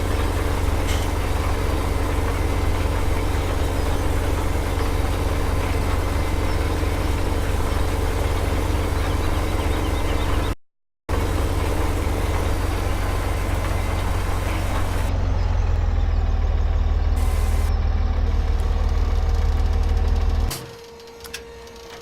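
Steady low drone of a tractor engine idling in Farming Simulator 17, continuous and loud with a brief dropout midway, the tone thinning near the end before cutting off.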